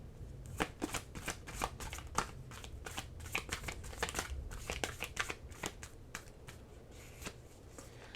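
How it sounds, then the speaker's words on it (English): A deck of oracle cards is shuffled by hand at close range, giving a steady sequence of crisp riffling slaps and soft flutters that carries on for about eight seconds without speech. "But let me get your Oracle card."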